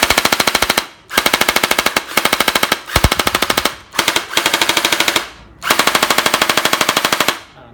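Bursts of full-auto fire from a Bing Feng P90 airsoft gun with a Gen8 gearbox, a rapid mechanical rattle in five or six loud, close strings separated by brief pauses.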